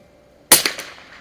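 A single sharp, close crack from a 1896 Schmidt Rubin target rifle chambered in .22 Short, fired at 50 yards. A brief ringing tail follows in an otherwise quiet setting.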